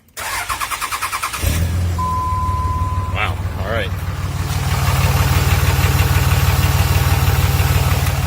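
A 2003 Dodge Ram 5.9 Cummins diesel engine cranks with rapid, rhythmic starter pulses, then catches and settles into a loud, steady, knocking idle that swells slightly louder toward the end. Brief voices and a short tone break through early on.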